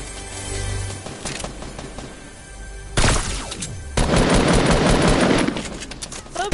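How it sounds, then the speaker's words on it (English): Dense automatic gunfire and heavy bursts roar through an online shooter tournament match, loud and continuous with sudden louder volleys, under faint background voices. "Stop shooting!"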